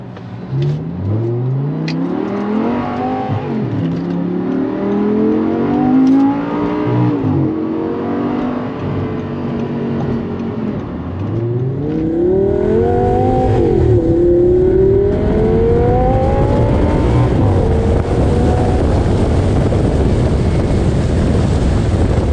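An Audi R8 5.2 V10 with R-tronic gearbox accelerating hard on the road, its loud engine note climbing through repeated rising sweeps, then briefly dropping and climbing again, with wind noise over it and no talking.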